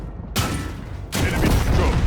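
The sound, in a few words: tank cannon fire in World of Tanks Blitz video game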